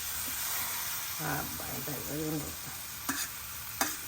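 Beetroot pieces fry in chilli-spiced oil with a steady low sizzle, a stretch of voiced talk midway, and two sharp clatters near the end as the pieces are stirred.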